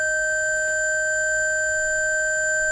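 Organ pipes sound steady sustained tones recorded up close with an XY microphone pair aimed at the pipe mouths, a bright chord holding evenly with a faint soft noise near the start.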